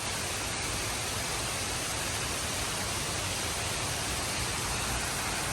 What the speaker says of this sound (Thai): เดี๋ยวหลบฝนกันก่อนดีกว่า